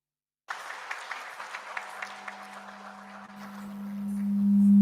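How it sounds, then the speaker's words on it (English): Audience applause after a performance at a mental wellbeing event, a dense patter of clapping that begins abruptly and holds steady at moderate loudness, with a low sustained tone rising beneath it toward the end. "I think we should give them Another another round of applause."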